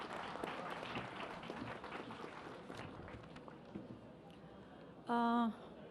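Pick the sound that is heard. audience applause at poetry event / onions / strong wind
audience applause at poetry event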